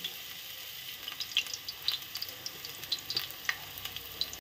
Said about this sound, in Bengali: গরম তেলে দিয়ে দিলাম।